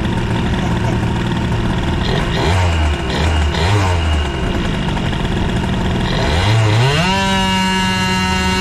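A scooter fitted with a Doppler engine kit and high-rev exhaust revs hard and close, its loud two-stroke whine dropping and climbing before sweeping steeply upward near the end.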